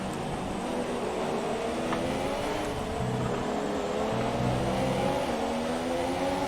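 A Formula 1 car engine in F1 2017 on the Baku circuit, with a steady loud high-revving drone that shifts pitch through gear changes, heard alone and without talk.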